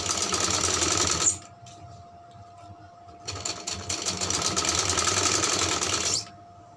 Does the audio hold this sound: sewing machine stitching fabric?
yes